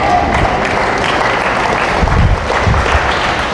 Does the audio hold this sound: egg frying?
no